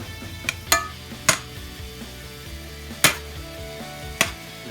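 About half a pound of ground chuck browns in a small pan over medium heat, a soft continuous sizzle broken by a few sharp utensil scrapes and clicks against the pan.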